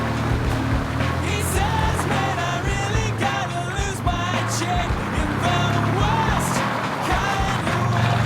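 A 4WD vehicle with a trailer unhooked heads onto a rough track, its engine droning loud and close throughout with rumbling, rattling and bumping over uneven ground.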